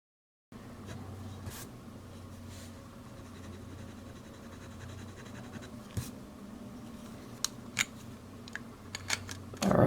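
A fountain pen filled with Noodler's Polar Brown ink scratches quietly across Blick 50-pound white sulfite drawing paper in short strokes, with occasional light taps and a louder rustle at the end.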